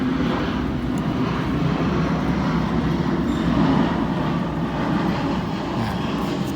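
An airplane flies overhead, a steady, loud broadband engine roar that holds constant throughout with a slight swell midway and no talking.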